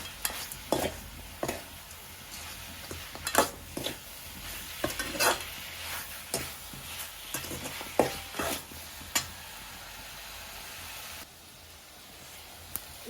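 Salt being stirred into chicken kurma in a cooking pot, repeated scraping and clinking strokes of a spoon against the pot over a low sizzle, close and steady, then a quieter stretch near the end, with no talking.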